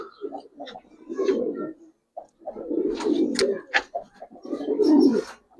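Pigeons coo nearby in repeated soft, throaty phrases, several overlapping calls rising and falling with short gaps between them.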